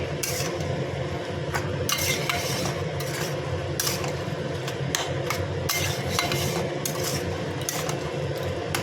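Cabbage and fish heads being stirred together in a cooking pan, giving steady scraping and clinking of a utensil against metal, with several louder scrapes over a continuous background.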